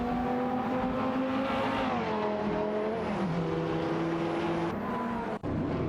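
Racing cars in an AI-driven racing video game, including a BMW M512 and a Dodge Viper SRT, drone steadily with engine tones that rise and fall, loud and continuous, with no talking, ending in a brief dip.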